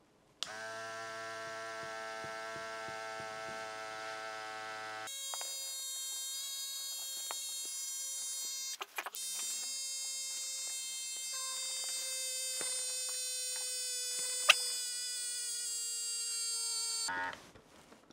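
A vacuum pump machine bought from Temu runs steadily with a close, continuous electric hum and buzz, rich in even harmonics. The pitch shifts midway, then holds until the motor stops near the end.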